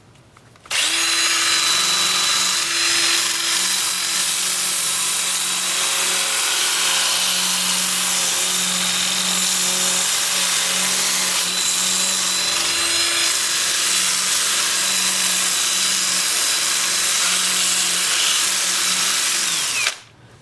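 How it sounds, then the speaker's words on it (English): A 2-inch sanding disc presses against a spinning ponderosa pine turning on a lathe, making a loud, steady abrasive whir with a motor hum underneath that runs almost unbroken for about twenty seconds before cutting off. "I'll sand the piece while it's spinning, 80 through 400 grit with my 2-inch disc"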